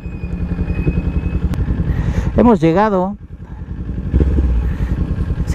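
Motorcycles, including an Italika Vortex 300, idle and rumble at the Iztapalapa go-kart track, a lumpy engine chug running throughout with one bike briefly revving up, while someone talks over it.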